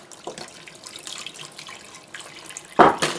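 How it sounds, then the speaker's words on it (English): Hot water runs from a tap onto guitar hardware being cleaned with soap, a soft splashing trickle that swells into a loud, close gush near the end. "I'm using hot water."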